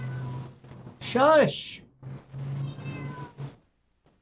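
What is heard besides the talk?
cat meowing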